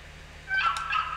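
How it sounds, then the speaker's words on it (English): Wild turkeys in The Hunter: Call of the Wild let out a short burst of rapid gobbling after a quiet start, fairly close and clear over a faint low hum. "Okay, there's turkeys. They can fly away."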